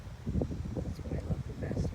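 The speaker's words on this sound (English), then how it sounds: "You can see how windy it is. It's really blowing." Gusty wind blows through a Zone 9 garden in autumn, rumbling steadily across the microphone with fluttering buffets and rustling, loud and continuous with no voices.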